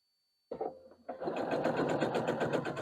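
A sewing machine starts up and stitches a diagonal seam across a barn star quilt block piece, a close rapid mechanical whirring with fast regular needle ticks after a brief first burst.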